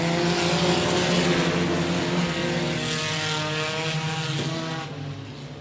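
Several race cars roar together under green flag racing at 105 Speedway, a loud, sustained engine drone with layered harmonic whines that fades slightly near the end.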